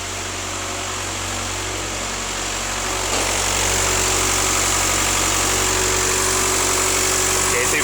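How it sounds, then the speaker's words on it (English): A 2.0 TDI diesel engine in an Audi A4 runs steadily at close range, with its turbo starting to spool up as exhaust back pressure builds, the hum growing slightly louder and fuller about halfway through. "you can hear the back pressure. The turbo starting to spool up, obviously when the EGR closes this flap."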